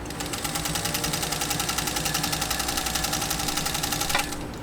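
A 1940 Singer 201-2 sewing machine runs steadily while stitching through 14 oz leather, a fast, even, close-up mechanical whir with rapid regular needle clatter, continuous throughout and with no talking.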